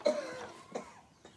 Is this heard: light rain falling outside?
no